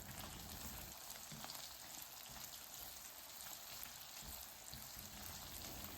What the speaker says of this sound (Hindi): अब सबसे पहले हम डालेंगे 1/4 टीस्पून हींग और उसे भी इसके साथ फ्राई कर लेंगे